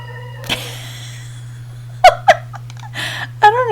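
Chickens cluck near a home sewing room: a few short, pitched squawks and bawks come in bursts over a constant low electrical hum.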